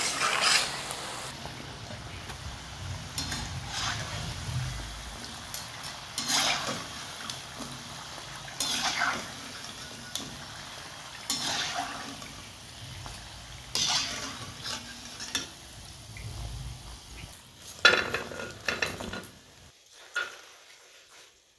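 Samosas fry in hot oil as they are gently stirred and turned by hand, with a soft steady sizzle broken by repeated scraping and sloshing bursts, close up.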